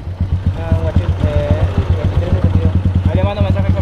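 A motorcycle engine chugs close by with a fast, regular thumping beat and a clattering exhaust note throughout, while people talk over it.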